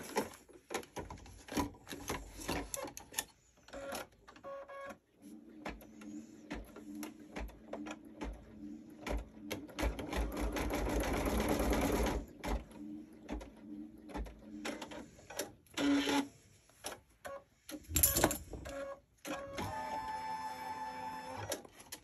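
A sewing machine stitching a small piece of fabric in bursts, a close mechanical whirring run lasting a few seconds at a time between pauses, clicks and handling noises, no talk.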